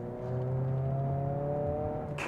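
A 2022 Honda Civic Si engine hums steadily with a rising whir as the car accelerates, heard from inside the cabin, loud and continuous without talk.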